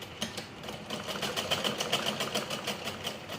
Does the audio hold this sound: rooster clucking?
no